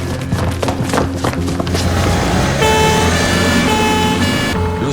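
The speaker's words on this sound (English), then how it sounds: "Lose the siren." A loud, close emergency vehicle siren wails alongside rumbling traffic, then shifts into a steady, sustained tone until near the end.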